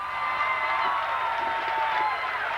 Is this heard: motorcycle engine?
no